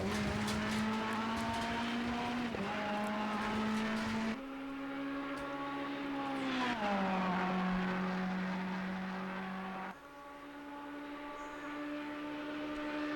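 Ferrari 488 EVO GT3 race car lapping Imola in Assetto Corsa Competizione, a loud continuous engine howl that drops on downshifts under braking, then climbs again as it accelerates out of the corner, alone with no talk.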